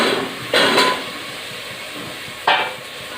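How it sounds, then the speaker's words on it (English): Potatoes tipped into a pan of pulpy onion-tomato base for prawn curry, two sharp clattering bursts of pieces hitting the pan over a quiet background. "Now in this we will add the potatoes."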